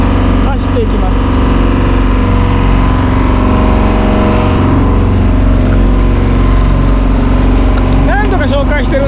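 A fishing boat with its nets hauled in speeds out to sea, its engine a loud, steady roar mixed with rushing wind and water, heard close on board.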